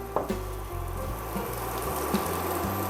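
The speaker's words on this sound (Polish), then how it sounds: "I smażymy do momentu, aż warzywa się zarumienią." A steady hiss of zucchini frying in a pan, with occasional small pops and clicks, beneath a low background hum, with no voices.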